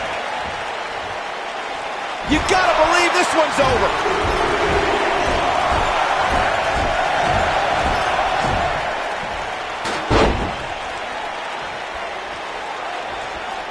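A virtual arena crowd in the WWE 2K19 wrestling game cheers steadily at a TLC (Tables, Ladders and Chairs) match, with sharp impact thuds and bursts of noise, while a commentator talks over it.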